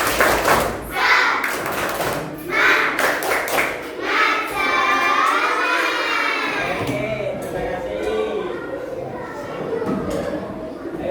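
A primary-school class performs a rhythmic spirit clap, sharp grouped claps in a patterned beat at first, then children's voices chanting and shouting loudly over it.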